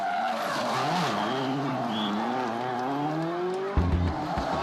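A rally car engine roars from inside the cockpit, revs climbing and dropping through gear changes, loud and constant throughout.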